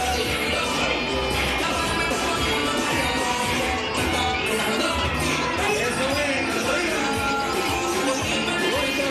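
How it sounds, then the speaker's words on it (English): A parade crowd at the Greater Hartford Puerto Rican Day Parade cheers a dance studio's street performance, a dense, continuous outdoor roar of voices and noise that holds steady throughout. "And the crowd loves it."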